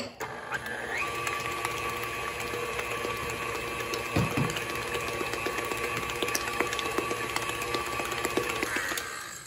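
Electric mixer beating eggs into quick bread batter, a steady close motor whir with a constant hum running for several seconds, with small clicks and rattles over it.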